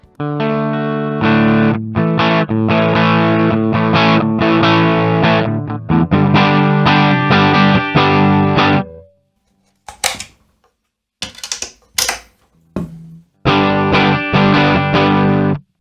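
An electric guitar runs through a Mooer GE200 or GE150 multi-effects unit with heavy distortion, playing loud sustained chords, then a stretch of short choppy stabs and silence before the chords return, with no voices.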